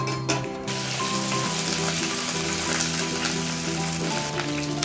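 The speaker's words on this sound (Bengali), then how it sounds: "তেল গরম হওয়ার পর আমি ওখানে ফোড়নটা দিয়ে দিলাম, মৌরি আর সরষে।" Fennel and mustard seeds with curry leaves crackle and sizzle in hot oil in a pan, a loud, steady frying hiss that runs without a break, opening with a few sharp spatters and carrying a faint tonal hum underneath.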